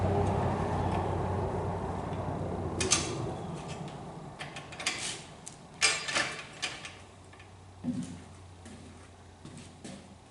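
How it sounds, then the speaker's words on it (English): A wrench tightening lock nuts on a metal shooting target: quiet clicking ratchet strokes and scattered metallic ticks in short irregular bursts, close up, with no talk. "Let me grab a wrench and a couple of lock nuts for this thing. Get these down all the way."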